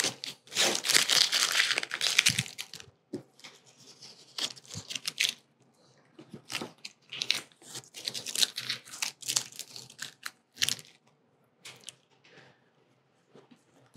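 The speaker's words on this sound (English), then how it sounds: "So we can take this tape up." Masking tape and vinyl decal backing peeled up from a tabletop, giving bursts of close crinkling, tearing and rustling with short pauses between pulls.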